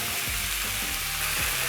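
Beef pieces sear in a hot pan for a beef wet fry, giving a dense continuous sizzle with low thuds and shifting crackle, close and steady throughout, no voices.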